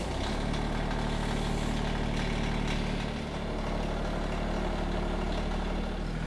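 A tractor idles with a steady, deep engine rumble, close and continuous, while being set up to run a PTO pump for a log splitter; no voices are heard.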